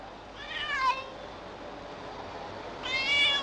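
Cat meowing in an older Turkish film, two separate drawn-out meows spaced a couple of seconds apart over a quiet room background, close and clear.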